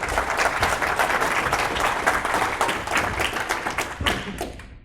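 An audience at a strength-training seminar bursts into loud, sustained clapping. Many hands beat in a dense, even wash with a few sharper close claps, then it tapers off abruptly at the end.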